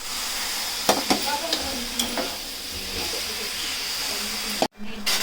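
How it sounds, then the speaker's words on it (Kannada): Chicken stirred into hot tempering in a pan, loud steady sizzle and frying hiss with several sharp scraping stir strokes near the start, then a brief drop-out near the end. "ಒಗ್ಗರಣೆ ಜೊತೆ ಕಳುಹಿಸಿ"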